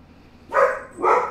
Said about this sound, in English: the dog is going crazy here